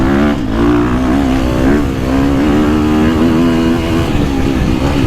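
A 350cc motocross bike, a 2024 Husqvarna FC350 or 2022 Gas Gas MC350, revs loudly on a dry hard-pack track, its engine note rising and falling steadily close to the listener.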